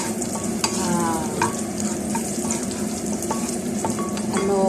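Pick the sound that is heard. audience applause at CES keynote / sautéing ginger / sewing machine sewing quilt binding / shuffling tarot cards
sautéing ginger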